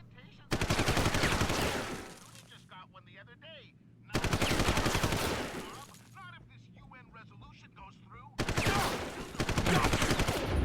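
Guards open fire in the game Deus Ex: Human Revolution Director's Cut: three loud, dense bursts of rapid automatic gunfire with sharp cracks. Shorter quieter stretches between the bursts carry talking voices.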